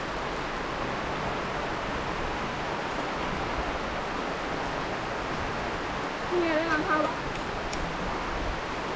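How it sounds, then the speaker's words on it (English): Constant rushing roar of Sticky Waterfall, also called Bottom Waterfall, in Thailand, a dense steady wash of falling water heard up close with a few faint whistle-like sounds partway through. "It is sticky waterfall, but the name is Bottom Waterfall"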